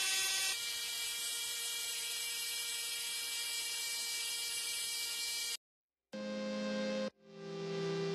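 A small 3D printed sander smooths the edges of a 3D printed facemask, a steady high electric whirring that runs for about five seconds, then stops and gives way to two short, different motor bursts.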